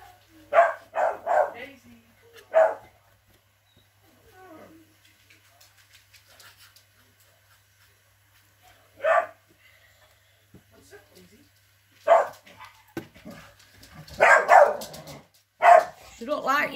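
Dogs bark in short, loud bursts scattered through a quiet home scene while someone paints a house gold and silver, with people talking in between the barks.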